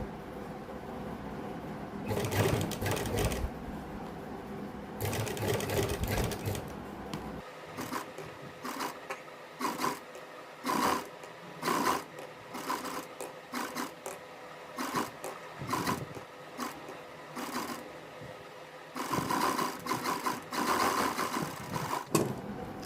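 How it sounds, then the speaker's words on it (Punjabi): A sewing machine stitches piping along a round neckline in repeated bursts of rapid mechanical whirring, close and loud, with short quiet gaps between runs as the fabric is turned. "ਦੇਖੋ ਜੀ ਆਪਾਂ ਗਲੇ ਦੇ ਨਾਲ ਨਾਲ ਸਲਾਈ ਲਾ ਲਈ ਹੈ ਸਾਰੀ"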